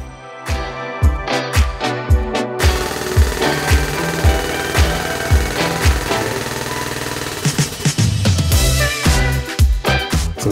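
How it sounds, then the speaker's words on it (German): A wheel hub is drawn into the wheel bearing of a Ford Transit with a puller tool instead of a press, giving a close, loud run of rapid rhythmic hammering impacts, like an impact wrench driving the tool. "Und jetzt ziehen wir also die Narbe in das Radlager rein"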